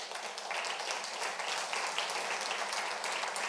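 Steady congregational applause in a Spanish-language church service, a dense wash of clapping held at even volume throughout, without speech over it.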